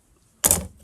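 An embroidery hoop holding cross-stitch fabric is loosened, giving a single short creaking, scraping click from the screw and frame, close and fairly quiet, with silence before it.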